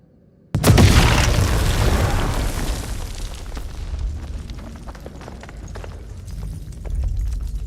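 A grenade blast in the House of Ashes video game, one sharp, loud explosion that erupts abruptly from near silence and then rolls into a long, decaying rumble with scattered debris crackles.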